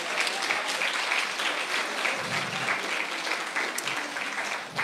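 Steady, dense applause rises from an audience at a Spanish-language religious gathering and holds for about five seconds, with no one speaking over it.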